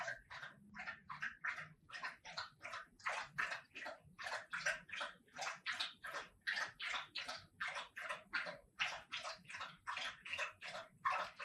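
A dog laps water from a bowl in rapid, rhythmic slurps that repeat steadily throughout, close by and fairly quiet, with no talking.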